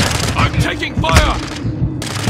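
Gunfire bursts in a Call of Duty Modern Warfare 2 private match, loud rattling shots mixed with booming impacts and game noise, with voices talking over the fighting throughout.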